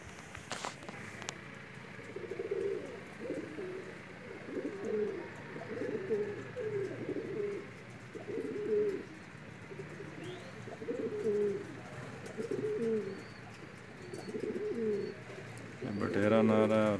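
A Pakistani pigeon pair from Mianwali cooing, repeated soft low coos in a steady series over background noise, with a brief voice near the end.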